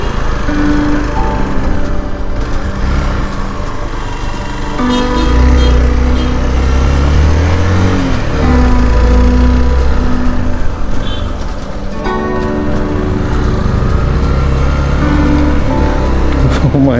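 A car engine labours steadily up a long, steep hill road with sharp turns on the drive from Bongaigaon toward Sonada near Darjeeling, a continuous close drone that swells and eases through the climb.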